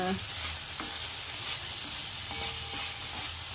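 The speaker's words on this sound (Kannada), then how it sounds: "ಇಲ್ಲಿ ಒಂದು ಟೊಮೊಟೊ ಸೇರಿಸ್ಕೊಂಡಿದ್ದೀನಿ ನೋಡಿ ಸ್ನೇಹಿತರೆ ಇದನ್ನು ಸೇರಿಸ್ಕೊಂಡ್ಬಿಟ್ಟು ಚೆನ್ನಾಗಿ ಇನ್ನೊಂದು ಸಲ ಫ್ರೈ ಮಾಡ್ಕೊಳ್ಳೋಣ" Chopped tomato frying in a hot oil tempering for rava upma gives a steady, close sizzle with occasional stirring scrapes. No one speaks over it.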